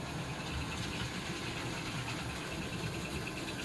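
A repaired 1947 #312 model train locomotive, damaged in shipping, runs and puffs smoke, giving a faint, steady mechanical whir and rumble that holds even throughout, with no talk.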